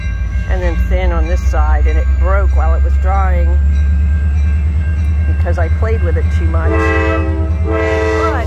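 A diesel train passes nearby, its low engine rumble steady throughout while the horn sounds in long tonal blasts toward the end; a person talks over it early on.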